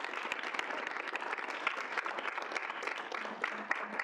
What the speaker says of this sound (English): really applause to Madison for doing that